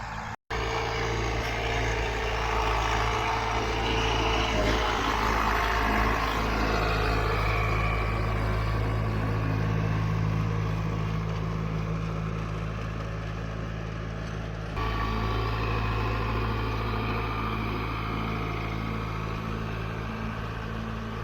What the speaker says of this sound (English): now he got the tiller on the tractor, and he's tilling up the garden some.